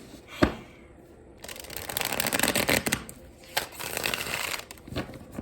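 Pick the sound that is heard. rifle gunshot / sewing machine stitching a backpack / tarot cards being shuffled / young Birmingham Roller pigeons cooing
tarot cards being shuffled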